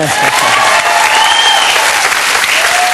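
Loud, dense applause fills the whole stretch, a steady wash of clapping from a crowd with no pauses.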